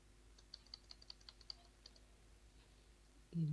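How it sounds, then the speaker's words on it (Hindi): Light, crisp computer keyboard keystrokes while typing in MS Word, a short run of quick taps with the colon key, close and faint, followed by a low thud at the end. "कॉलन प्रेस कर दिया मैंने।"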